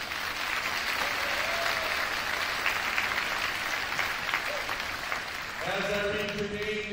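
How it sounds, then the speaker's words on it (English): Audience applauding at a high school graduation ceremony, sustained steady clapping from a large crowd throughout, with a voice briefly speaking over it near the end. "Ms. McGill, Freeman, give her a big round of applause"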